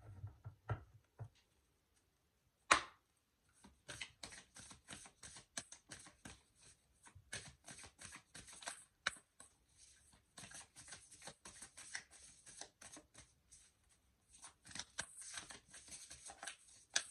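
A deck of cards is shuffled for a card reading, soft rapid riffling and flicking in irregular bursts, close and quiet, with no talking.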